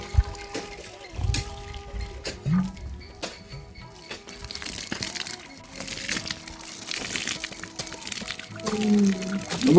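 Water is poured onto plants in a home garden in uneven bursts of splashing and trickling, with containers clanking and knocking in between.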